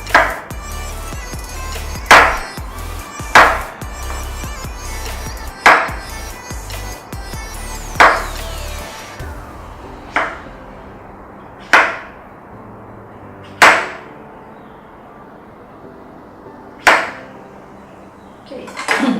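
A knife chops through a peeled hairy gourd on a cutting board, cutting it into one-inch tubes: about a dozen sharp, loud, evenly spaced thuds, each ringing briefly, with quiet background sound between them.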